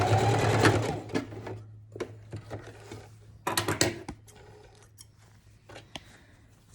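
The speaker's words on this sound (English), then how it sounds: "So now those two pieces of fabric are sewn together, facing each other." A sewing machine stitches two fabric pieces of a face mask, a short whirring run of needle strokes followed by sporadic clicks, snips and handling knocks, close up with no talk.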